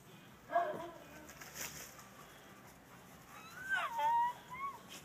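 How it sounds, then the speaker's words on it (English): A dog whimpers in rising and falling high whines, one brief cry early on and a longer, louder whimper near the end, over a quiet indoor background. "We interrupt this movie for some crazy dog."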